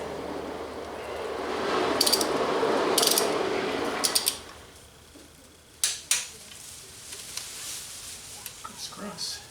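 Bolts on a 1977 Camaro Z28 accessory drive being tightened to torque with a T40 plus bit, heard as a few quick ratcheting clicks and metallic clacks, with someone talking under and before them.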